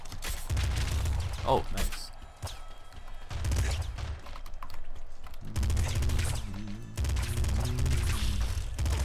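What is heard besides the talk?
shotgun fire in video game Nuclear Throne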